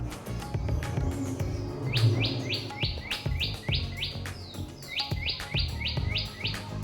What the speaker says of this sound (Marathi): चिमण्या किती छान आहे